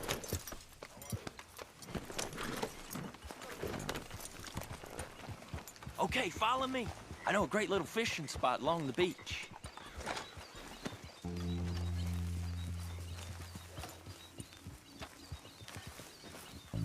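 Horse hooves clip-clop steadily beneath a voice in Red Dead Redemption 2, with a brief whinny and a low sustained tone partway through as the ride continues.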